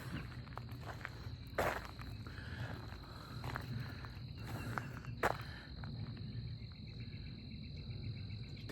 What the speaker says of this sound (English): Them bugs stop making all that noise tonight.